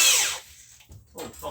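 Short whine of a power drill driving a screw into wood, loud at the start and fading, followed by a couple of brief softer bursts as the trigger is pulsed.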